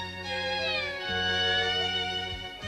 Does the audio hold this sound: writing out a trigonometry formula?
no